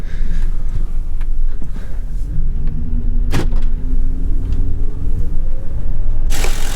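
A Mercury Grand Marquis out on a test drive around the block, its engine and road rumble steady and close throughout, with a brief sharp knock midway and a rising whine near the end.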